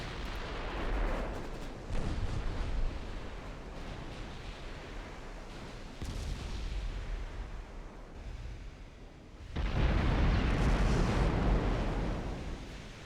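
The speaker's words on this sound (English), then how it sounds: "Civil Bossy took a pretty mean hit. From a 14-inch on Verite." Heavy naval gunfire from a 14-inch battleship gun in a naval strategy game, rumbling booms rolling over one another, with a louder, sustained blast surging in near the end of the stretch.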